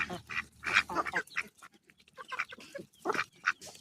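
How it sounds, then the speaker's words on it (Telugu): White ducks, including a large Khaki Campbell, quack in a series of harsh, bursty calls while being hand-fed grain, the calls coming close and fairly loud with short pauses between them. "ఇదిగోండి బాతు కూడా చూడండి, వైట్ బాతు"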